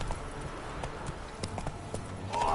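Roach, the horse in The Witcher 3, gallops in a quick, regular clip-clop of hooves, close and fairly quiet, with a brief tonal game sound at the end.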